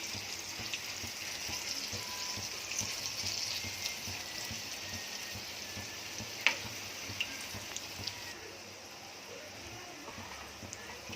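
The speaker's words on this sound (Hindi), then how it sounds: "अगर आपको डीप फ्राई करने हैं ना तो छोटे छोटे डालने के कढ़ाई में" Dal pakoda fritters deep frying in hot oil in a kadhai for a Konkani-style dish, a steady dense crackle and hiss running throughout with a few sharper pops near the middle.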